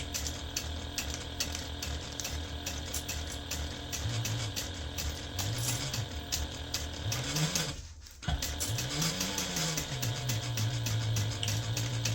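Sewing machine stitching the corner seam of a large fabric gift bag, a steady close mechanical whir running in several bursts with brief slowdowns and one short pause, no voices.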